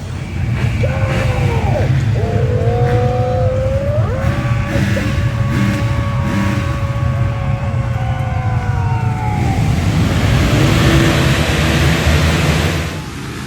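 Many motocross bike engines rev together at the start line at Redbud, a loud, dense, sustained roar with rising and falling pitch sweeps, partly under a commentator's voice and crowd noise.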